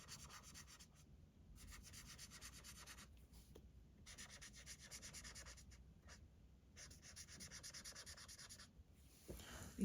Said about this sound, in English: These markers squeak on this paper.